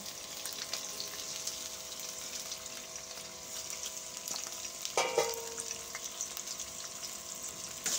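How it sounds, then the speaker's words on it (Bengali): Chopped chilli and onion fry in hot oil in a wok, giving a steady, dense sizzle with a few light clinks of a utensil near the middle. No one speaks. "কেটে রাখা লঙ্কা আর পেঁয়াজটা গরম হয়ে গেছে, তেল এবারে দিয়ে দেবো।"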